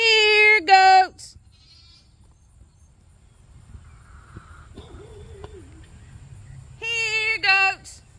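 Goats give loud, wavering bleats, one burst of several calls at the start and another near the end, with a quiet outdoor stretch between holding only faint, scattered sounds.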